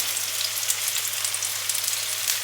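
Pork sizzling in olive oil in a frying pan, a steady close crackle of hot fat with no talking.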